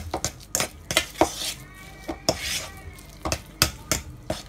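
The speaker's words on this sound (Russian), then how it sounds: "И снова перемешиваем." Repeated scraping and clinking of a utensil working through thick coconut-banana bun dough in a bowl, irregular strokes close by, with no talking.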